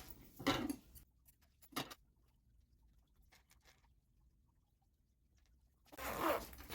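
A nylon zipper slider is pulled along fabric on a sewing project for a cosmetic box pouch, giving a few short close rasping zips separated by quiet pauses.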